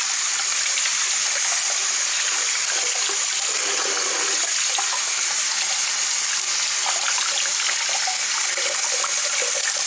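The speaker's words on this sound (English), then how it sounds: "So I'm just letting the water flow down the hair to rinse the shampoo out" Water pours steadily down long hair to rinse out shampoo, a loud, continuous close-up rush and splatter of running water with no pauses.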